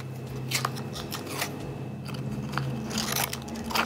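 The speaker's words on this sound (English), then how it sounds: "I'll trim away this excess tape." Scissors snip away excess tape in a series of crisp, close cuts with soft crunching and scraping between them, irregularly spaced over a quiet background.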